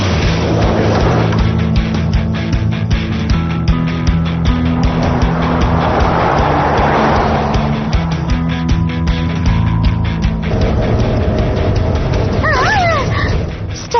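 A cartoon camper van rumbles along a bumpy, potholed road with a steady loud engine drone and jolting thumps, and a brief squeal-like warble near the end.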